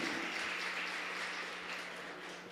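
A church congregation claps in a faint, distant wash of applause that slowly fades toward the end.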